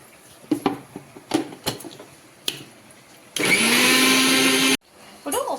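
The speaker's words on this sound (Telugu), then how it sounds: "ఒక్కసారి మళ్ళీ మిక్సీ పట్టేద్దాం" A few sharp clicks and knocks of handling come first. Then a mixer grinder whirs loudly for about a second and a half, grinding fried curry leaves with salt and asafoetida, and stops abruptly.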